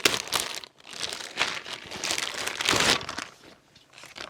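Paper crinkles and rustles in uneven bursts close by as a small Lumix camera pouch is unwrapped during a G80 unboxing, with no talk over it.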